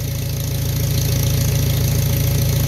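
A 1941 Farmall M tractor idles steadily nearby, its low engine throb continuous and even, driving a PTO hydraulic pump that slowly lifts a Brandt 1070 auger; no voices are heard.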